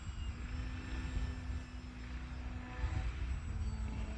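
Steady engine drone of an RC biplane flying an ailerons-only roll, heard from a distance at a constant, moderate level throughout with no talking.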